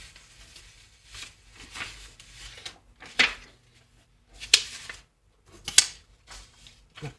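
Scissors snip through a strip of craft paper in a handful of separate crisp cuts, close and clear, with quiet rustling of paper between them.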